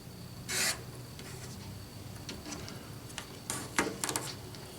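Fabric squares for a quilt block, cut to four by four inches, with quiet, faint cutting strokes in a few scattered bursts, close by with no talk.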